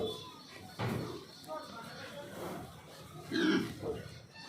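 Pigs on a pig farm in India grunt and shuffle at close range, with a few louder bursts standing out against steady barn noise while people talk throughout.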